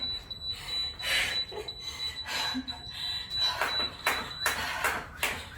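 Several sharp electronic beeps from an interval timer sound in quick succession over a steady high tone, with faint movement noise between them.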